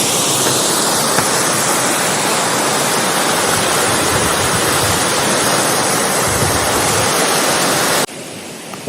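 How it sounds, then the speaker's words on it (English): A creek rushes beneath a bridge in Olympic National Park, a loud, steady broadband roar of flowing water heard up close, continuous until it cuts off abruptly near the end. "Got a little creek. Heard some water rushing."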